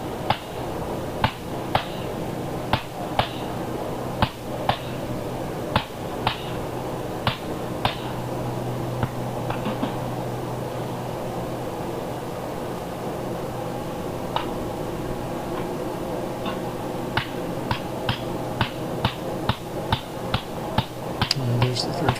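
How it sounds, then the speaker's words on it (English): Heavy hammer blows drive an axe through an iron bloom at a blacksmith conference, a series of sharp metallic strikes in a steady working rhythm, loud and close, with voices talking underneath. "taking a number of hammer blows, quite heavy hammer blows, driving that axe through"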